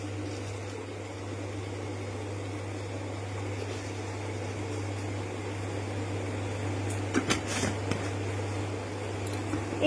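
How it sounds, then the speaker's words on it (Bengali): Water for tea boils on the stove with a steady, even broadband rushing hiss and a low hum beneath it. Near the end a few brief clinks and scrapes rise above the noise. "চায়ের জল ফুটে গেছে"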